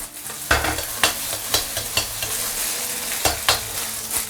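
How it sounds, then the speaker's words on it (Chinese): Eggs fry in a pan while being stirred and broken up, a steady close sizzle punctuated by regular scraping stirs about every half second, with no talking. "鸡蛋给它炒一炒，煎一煎，煎到这种两面金黄色啊，才会出香。"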